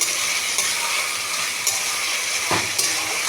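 Steady sizzling of potatoes and onions frying in hot oil, close up, with occasional clinks and stirring scrapes.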